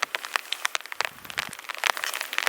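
Heavy rain drumming on a shelter during car camping, dense irregular close-up drops pattering and crackling continuously.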